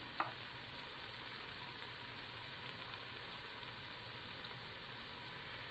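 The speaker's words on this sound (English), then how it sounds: "We're still on high sear sauté on the pot." Thyme sautéing on high sear in an Instant Pot while cooking cheesy chicken and rice: a steady, quiet sizzle and crackle runs throughout, with one small clink near the start.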